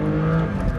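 A 2024 Porsche 911 S/T engine revs through the first to second gear shift, a brief loud burst of engine tone that drops as the revs fall, heard close and alone.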